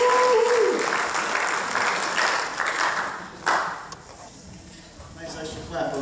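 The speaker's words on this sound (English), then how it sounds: "Nice extra clap over there, right on." An audience at a senior class awards ceremony claps steadily in a large room, strongest at the start and then thinning out, with a voice speaking over part of it.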